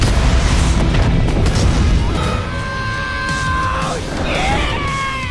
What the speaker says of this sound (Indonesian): pesawat berhasil diledakkan karena Dante telah membunuh salah satu dari mereka